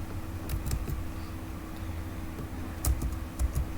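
Someone types HTML code on a computer keyboard in quick, close, fairly quiet clicks, with brief bursts of keystrokes over a low steady hum.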